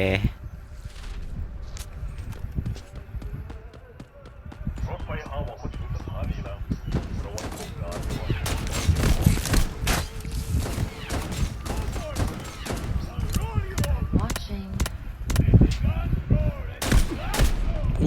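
Dense, rapid gunfire in the Delta Force Mobile shooter game: volleys of sharp automatic shots and bursts fire almost without pause, loud and close, while a person talks excitedly over the shooting throughout.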